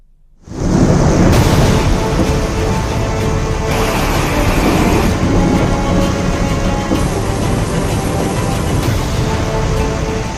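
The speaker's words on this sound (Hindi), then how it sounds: "एक तरफ मूसलाधार बारिश और दूसरी तरफ दरकते पहाड़।" Heavy monsoon downpour with thunder over landslide-prone hills in flood-hit northern India, a loud, dense roar of rain that swells in suddenly and holds steady throughout, with deep rumbling underneath.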